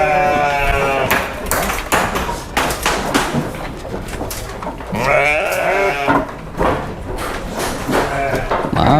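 Garut sheep in a livestock pen bleat loudly and repeatedly, several animals calling close by with wavering cries, mixed with thumps and some background voices.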